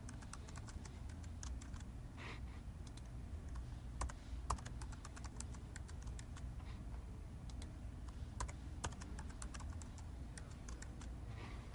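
Passwords being entered on a computer keyboard, steady runs of soft close key clicks with brief pauses, quiet and alone.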